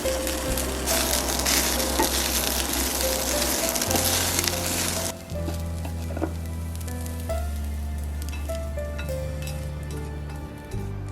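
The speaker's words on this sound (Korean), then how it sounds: "치킨은 기름을 두르지 않은 팬에 볶아줄게요." Chicken stir-fried in a dry pan without oil, sizzling loudly and steadily up close, with a brighter, fiercer burst of frying at first that settles to a lower crackle over a background hum and occasional clinks.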